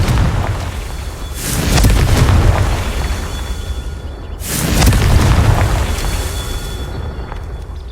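Two heavy, booming Confringo spell blasts from the Hogwarts Legacy video game, each a loud burst with a rumbling tail, a few seconds apart.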